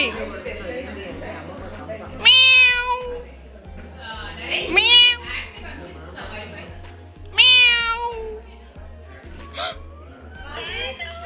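A cat meows three times, loud and close, each call a rising then falling cry, with children chattering and talking in the background throughout.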